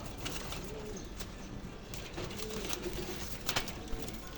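Racing pigeons coo in soft, repeated low warbling calls, fairly close, against a faint background hiss with occasional light knocks.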